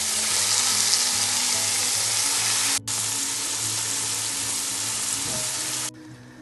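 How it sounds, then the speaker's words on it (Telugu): Marinated vegetables with cashews and raisins frying in oil for Hyderabadi veg dum biryani, a loud continuous sizzle broken by a brief gap, a faint clink and a drop-off at the end. "క్యాషినట్స్, రేజన్స్, కిస్మిస్ కొంచెం ఇది ఫ్రై అయిన తర్వాత నేను మ్యారినేట్ చేసుకున్న వెజిటేబుల్స్ దీంట్లో వేసేస్తున్నాను"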